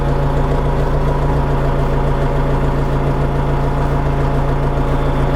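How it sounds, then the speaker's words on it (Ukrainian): A new DTZ 504 tractor engine idles nearby at about 850 rpm with a low, steady, constant rumbling drone and no changes in pace. "Дивіться, як трактор працює."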